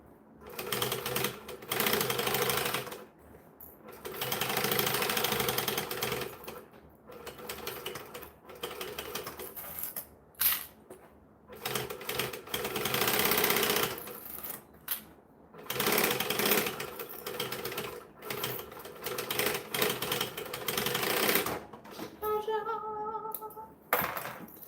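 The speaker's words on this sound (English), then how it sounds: "we're going to slowly back stitch because we all know that my machine was playing up this morning with a full bobbin" A home sewing machine slowly back stitching, its motor whirring in steady bursts separated by short pauses, close and fairly loud with no talk, after it had been playing up with a full bobbin.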